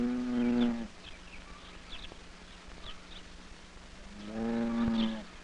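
Cows and a calf on a dairy farm moo in two long, loud, low calls at the start and end, separated by a quieter stretch with faint birdsong and rustle.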